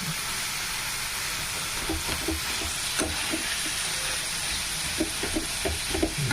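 Boiled carrots fry in hot oil in a pan for pav bhaji, a steady close sizzle with scattered soft scraping and stirring taps, no one speaking.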